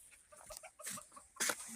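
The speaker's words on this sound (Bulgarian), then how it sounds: "Кокошките." Chickens clucking softly in a farmyard, a few short scattered clucks and scratchy rustles, faint and close with a louder burst toward the end.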